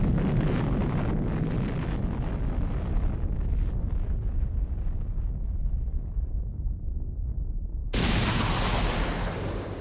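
A deep, sustained rumbling blast from an atomic bomb explosion, loud and roaring for about eight seconds before cutting abruptly to a bright hiss.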